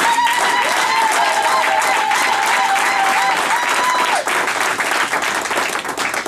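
A church congregation breaks into loud, sustained applause to acclaim God, a dense wash of many clapping hands with a steady held musical tone underneath that fades partway through.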